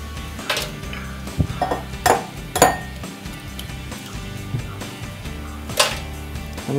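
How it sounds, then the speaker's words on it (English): Two eggs for a chocolate mud pie filling cracked against a bowl, a few sharp clinks and taps spread irregularly over several seconds, close and clear with no talk. "So you crack 2 eggs"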